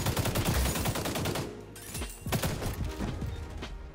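Rapid bursts of automatic gunfire crackle loudly in an XDefiant team deathmatch, dense overlapping shots for over a second, then a short break and scattered sharper shots, fading toward the end.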